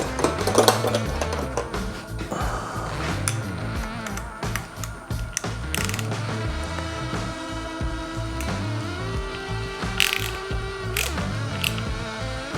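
A ratchet clicks rapidly in short bursts while tightening a 10 mm cap on a Yamaha YFZ450R engine during a top-end rebuild, close and crisp, mixed with metallic clinks of handled parts.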